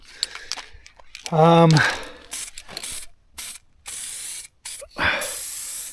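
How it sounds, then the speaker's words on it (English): Short bursts of spray hissing from an aerosol can, separated by pauses, close up, with a brief rattling and some faint talk. "I know there's techniques to spray painting with a can"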